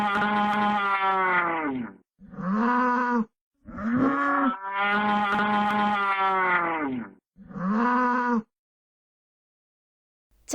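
A bull moos in a run of long, deep, loud calls, some drawn out and others shorter, separated by brief silences and heard alone without talk.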